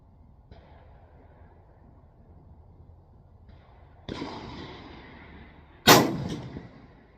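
A .308 Remington rifle fires a 178 grain AMAX hand load outdoors: one sharp, loud crack near the end, after a duller thud and a quiet stretch of background noise.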